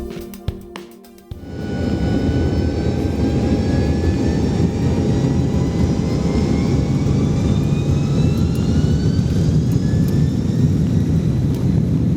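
A Biman Bangladesh McDonnell Douglas DC-10 jet on its final flight roars loudly and steadily, a broad jet engine rumble with rising whine tones, after a short burst of clattering noise at the start.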